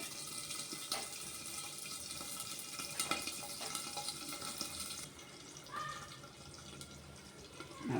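Ivy gourds (tondakaya) fry in a pan for a masala curry, with a continuous hissing sizzle, occasional crackles and a few sharp clicks. The sizzle eases slightly partway through and no voice is heard.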